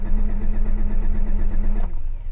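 A Honda Civic CRX engine catches and runs at a rough, throbbing idle up close, with the choke partly out. It cuts off abruptly after about two seconds.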